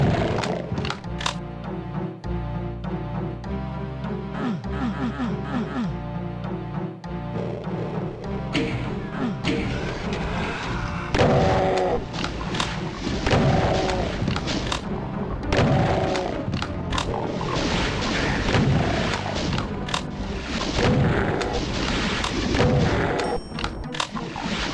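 The DOOM II super shotgun fires repeatedly in heavy, booming blasts at irregular intervals, mixed with monster roars, game music and other combat noise throughout.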